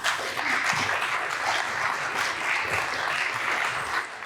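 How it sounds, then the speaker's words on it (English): An audience applauds at a Chamber of Commerce candidate forum, a dense sustained wash of clapping from a crowd in a hall, steady and moderately loud, tapering slightly at the end with no talk over it. "I would like to remind the audience to refrain from applause during our question and answer period"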